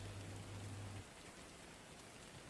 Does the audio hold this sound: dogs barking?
no